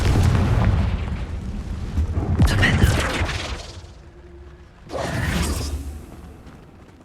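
Confringo explosive spell blasts in Hogwarts Legacy, loud booming bursts with whooshing rumble, one around the middle and another near the end, over a continuous game background.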